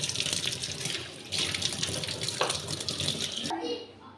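Running water splashes steadily into a kitchen sink as it is scrubbed and rinsed with rice flour, a continuous close gush that cuts off near the end, leaving a faint trickle.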